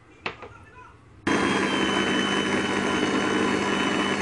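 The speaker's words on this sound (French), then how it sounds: "je m'excuse d'avance pour le bruit de mon robot" A kitchen food processor mixing icing sugar and cornstarch, starting abruptly after a brief knock and then running as a loud, steady whirring roar to the end.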